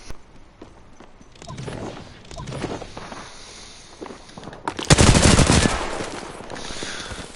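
Apex Legends gameplay gunfire: scattered distant shots and footsteps, then a loud close burst of rapid weapon fire around the five-second mark that trails off into lighter action.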